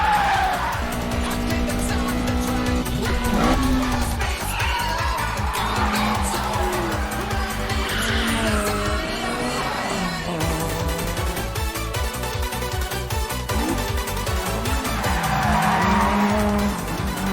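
A Toyota AE86 engine with 350 HP revs high and races loudly with tire squeals and skidding, continuous and close, over busy background music.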